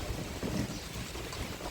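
Cold wind blows outdoors on a hillside near a house, making a steady low rumble and buffeting against the microphone.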